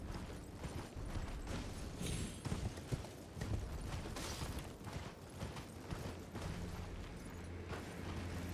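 Horse hooves gallop steadily in the open-world action game Elden Ring, a continuous rhythmic thudding at moderate loudness mixed with game ambience and no talking.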